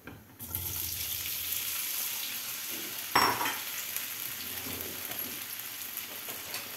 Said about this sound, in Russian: Слегка все это дело обжариваем, и мы туда отправляем нашу картошечку.